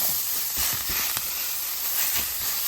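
Ground beef pressed thin in a skillet over medium-high heat, giving a steady, bright sizzle with a few soft knocks from a spatula underneath.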